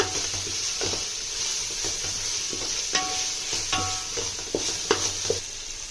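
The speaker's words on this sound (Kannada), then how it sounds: "ಲೋ ಫ್ಲೇಮಲ್ಲಿ ಇದು ಚೆನ್ನಾಗಿ ಬಾಡಬೇಕು, ಫ್ರೈ ಆಗಬೇಕು" A turmeric-coated mixture for prawn biryani frying on a low flame, a continuous soft sizzle with scattered clinks and scrapes of a spoon stirring the pan, close up and moderate in level.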